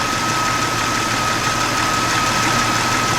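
Car engine idling steadily during A/C troubleshooting on an XJ, a constant low hum with a thin high whine running through it, close and even with no voices.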